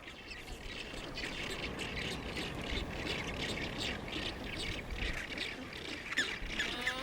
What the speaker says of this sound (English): rockhopper penguins, which call attention to themselves with their yellow decorative plume and constant chatter